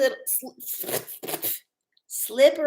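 Slippery oracle cards being shuffled and handled, quick papery riffles and flicks mixed in with a person talking close by.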